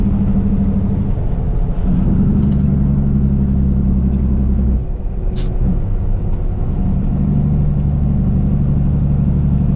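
A Kenworth truck on the road, heard from the cab as a loud, steady low engine drone with rumble. A brief dip comes midway, followed by a short hiss like an air brake. No one speaks.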